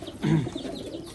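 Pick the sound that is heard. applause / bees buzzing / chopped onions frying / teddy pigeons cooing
teddy pigeons cooing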